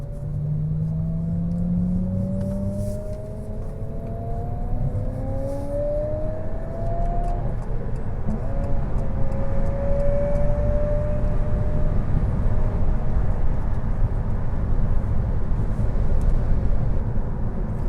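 A Fiat 500e electric car plays its synthetic driving sound, a series of smooth rising and gliding whistle-like tones over a steady low hum. The sound is fairly loud and continuous, with no talking.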